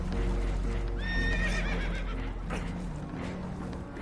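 Horses in Red Dead Redemption 2 whinny in panic aboard a damaged, leaking boat, a sharp rising neigh standing out over a dense, loud background of water, clopping and commotion.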